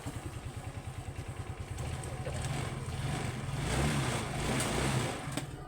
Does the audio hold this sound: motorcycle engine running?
yes